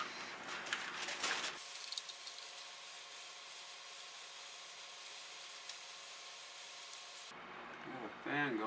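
Electric fan blowing steadily over hot glue on a DIY pumpkin craft, a soft even whir running for several seconds between brief bursts of handling noise at the start and end.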